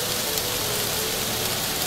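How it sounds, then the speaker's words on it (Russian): Steady, dense rain pours through a Caucasus forest near Psebai, Krasnodar region, a continuous hiss of drops on leaves and ground with no voices. "Дождик шпарит"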